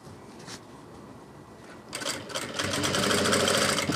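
Sewing machine stitching a collar onto a gents' kurta starts after a quiet stretch of faint handling and runs in a steady, rapid whir for the last two seconds, close by with no voices.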